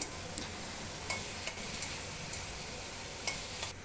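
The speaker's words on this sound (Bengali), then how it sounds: "আলু আর চিংড়ি মাছটা দিয়ে দিলাম দিয়ে ওর সাথে ভালো করে কষিয়ে নেব" Potato and prawns stir-fried with boiled figs in a pan, giving a steady soft sizzle with occasional light scrapes of stirring, moderately faint and without speech.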